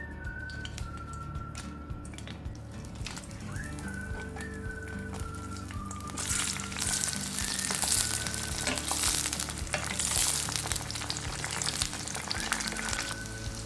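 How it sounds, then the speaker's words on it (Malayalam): Chili and garlic fry in hot sunflower oil with a steady, dense sizzle throughout, growing louder and more crackling midway, while a few thin whistle-like tones drift above it. "മുളകും വെളുത്തുള്ളിയും എല്ലാം ഇതുപോലെ നന്നായിട്ടൊന്ന് ഫ്രൈ ആയി വരുന്നുണ്ടെങ്കിൽ"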